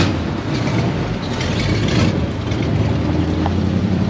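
A Ford Dentside pickup with a swapped-in Crown Victoria engine runs steadily nearby, giving a continuous low, even rumble with no talking.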